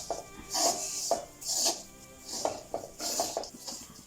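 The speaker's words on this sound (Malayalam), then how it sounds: "ഇനി നമുക്ക് ഗ്യാസ് ഒന്ന് കുറച്ച് വെച്ചതിന് ശേഷം ഇത് നന്നായിട്ട് ഇളക്കി വറുത്തെടുക്കണം" Grated coconut is stirred as it roasts in a pan on a gas stove over low heat, giving repeated scraping and rustling strokes in uneven bursts, close by, with no talking.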